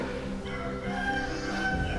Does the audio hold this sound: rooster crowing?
yes